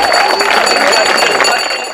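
An outdoor crowd at a street art festival claps and cheers in a dense burst, with voices mixed into the applause, which fades slightly at the end.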